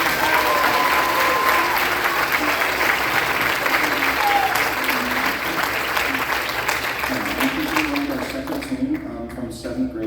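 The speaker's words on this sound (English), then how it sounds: "Let's give a round of applause to all of them." A middle school concert audience of seventh and eighth grade families claps steadily in a full, even round of applause, easing slightly toward the close as it starts to die away.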